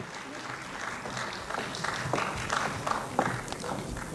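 Applause from the audience at a Lucknow mushaira during a trophy presentation, a moderate patter of clapping from a crowd, building slightly and continuing steadily.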